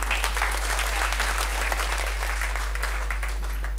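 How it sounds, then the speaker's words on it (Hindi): Audience at an RCM Business seminar in Jahanabad applauding steadily for about four seconds, a dense even wash of many hands clapping with a low electrical hum underneath. "एक बार जोरदार तालियों से"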